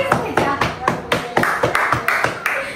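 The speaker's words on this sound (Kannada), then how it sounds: "ಚಪ್ಪಾಳೆ ಹೊಡಿರಿ ಬ್ರೋ. ಚಪ್ಪಾಳೆ ಹೊಡಿ ಕೈ." A few people clap their hands in an uneven rhythm of about a dozen sharp, close claps, with no talking during them.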